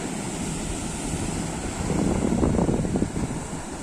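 Rough high-tide ocean waves at Digha surge against and over the sea guard wall, a broad roaring wash that swells in the middle and recedes, with wind buffeting the microphone.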